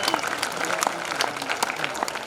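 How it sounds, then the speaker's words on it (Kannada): A crowd at a Sri Rama Navami gathering breaks into applause, a steady patter of many hands clapping with a few louder claps, brief and continuous. "ಚಪ್ಪಾಳೆ."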